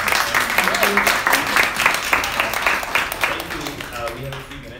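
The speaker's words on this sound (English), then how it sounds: "Can we get a round of applause?" Audience applause closing a talk by fashion designer Manish Malhotra at NYU, a few seconds of clapping from the room with a speaker's voice over it, tapering off toward the end.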